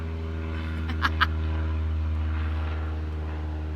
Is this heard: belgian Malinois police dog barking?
no